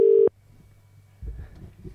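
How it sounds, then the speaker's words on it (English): A telephone ringback tone on a call line: one short, loud electronic tone burst, followed by quiet line hiss and low rumbling background noise. "Still ringing."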